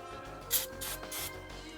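Short hissing bursts of brake cleaner aerosol spray on motorcycle brake parts of a Kawasaki Versys/ER-6, three or four quick pulses close by, with no talking.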